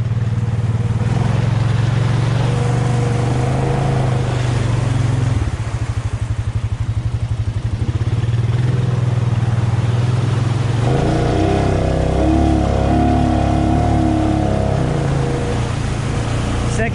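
A Jeep Rubicon with a 53 engine revs off-road in second gear, two-wheel drive, at an ATV park: a loud, steady engine drone with a throttle dip midway, then harder revving near the end.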